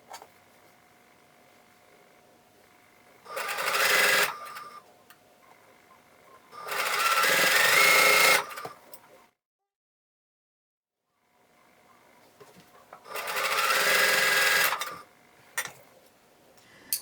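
A sewing machine stitching quilt pieces for a star block, three fast rattling bursts of a few seconds each with quiet gaps between, close and clear, with no talking.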